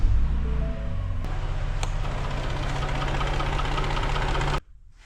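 A Ford Raptor V6 engine with a leaking plastic oil pan idles close by in a steady low rumble with a faint rhythmic ticking, then cuts off abruptly near the end.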